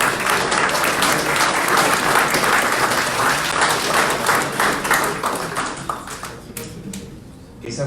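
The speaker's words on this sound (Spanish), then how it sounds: "Pido para todos ellos nuevamente un fuerte aplauso." Loud audience applause fills the room at a book presentation in Xalapa, dense continuous clapping that thins and fades toward the end.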